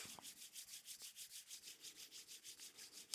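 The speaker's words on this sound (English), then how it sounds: "Begin to rub the palms together, creating heat and warmth." Palms rubbed together briskly in a steady back-and-forth rhythm, about a dozen quick soft swishing strokes, close and quiet with no talking.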